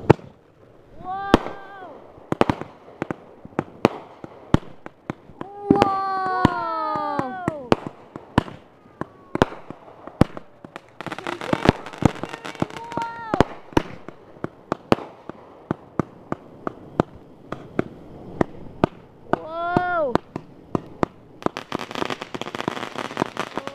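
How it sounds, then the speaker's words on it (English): Fireworks going off outdoors at a Fourth of July celebration: a dense string of sharp crackling pops and bangs, some rising whistles, close and loud, with people talking and shouting between bursts. "we have a lot of fireworks. So here's the next one."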